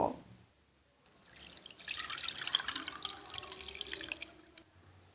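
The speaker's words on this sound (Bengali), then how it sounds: "এবার আমি একইভাবে দুধটাকে ছেঁকে নিব" Homemade coconut milk being strained for coconut oil trickles and splashes into a vessel in a steady pour, faint and close, starting after a short quiet moment and easing off near the end.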